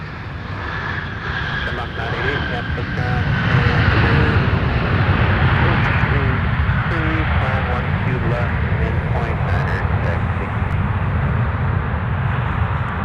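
Airliner on an international arrival from Cancun, Mexico into Minneapolis airport, a loud sustained jet rumble that swells and holds steady, with radio chatter and a voice talking over it.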